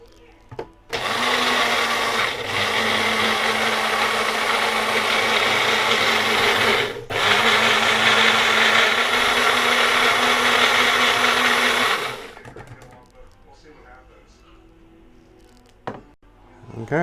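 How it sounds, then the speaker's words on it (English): A blender grinds aloe vera with lavender in a loud, continuous whirring run of about eleven seconds, with a brief dip midway, then stops and leaves quiet room sound. "I'm going to grind this all up again with the lavender in there as well"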